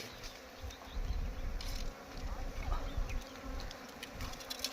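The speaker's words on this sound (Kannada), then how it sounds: "ಅದ್ಭುತವಾದ ಜೇನು. ತುಂಬ ದೊಡ್ಡದಾಗಿದೆ." Honeybees hum around a large wild hive, a dense, close buzzing that swells and fades as insects pass near, continuing throughout without any voices.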